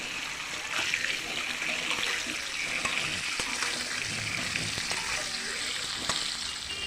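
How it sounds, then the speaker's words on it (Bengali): Eggs frying in a pan for egg korma, being turned over as they cook: a steady, moderately loud sizzle with broadband crackle and a few small scraping clicks, continuous with no talk. "ডিমগুলোকে আমি জাস্ট একটু উল্টো পাল্টো করে ভেজে নেব"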